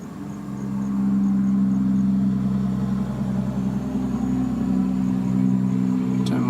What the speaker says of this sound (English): That such a truck going past.